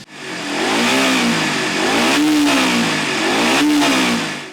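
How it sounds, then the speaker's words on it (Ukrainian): A motorcycle engine, its sound compared to a Shahed drone, revs loudly and close in two or three rising and falling surges over a continuous mid-pitched drone. "звук мотоцикла, який часто порівнюють із шахедом, може бути створений штучно"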